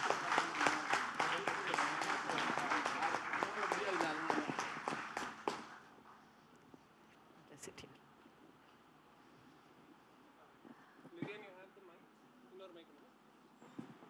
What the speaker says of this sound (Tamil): ஒரு பெரிய கைத்தட்டல் கொடுக்கலாமா?